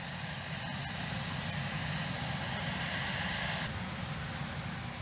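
Marine One, the presidential helicopter, runs with a steady turbine drone and rotor rumble that stays loud and constant for several seconds before easing slightly, with no talk.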